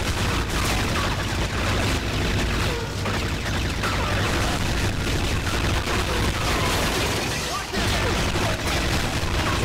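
Grenade explosion and gunfire in the video game 007 Agents Under Fire, a dense, loud barrage of booms and rapid shots filling the whole stretch, with voices mixed in.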